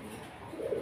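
Danish pigeons coo softly at a farm, a short low murmuring coo rising near the end of the moment, faint and close.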